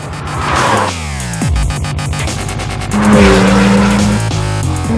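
A Porsche 991 Turbo with a 520-horsepower 3.8-liter turbocharged flat-six revs hard on a racetrack, loud close engine howl climbing through several quick gear shifts, with a faint tire squeal.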